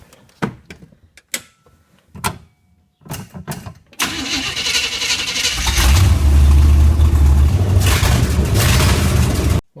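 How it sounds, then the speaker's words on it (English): A Suzuki Sidekick with a swapped 350 Chevy V8 is started after a few scattered clicks and knocks, catching with a loud burst at about four seconds and settling into a deep, steady idle that stays loud to the end. "Might as well fire it up this morning."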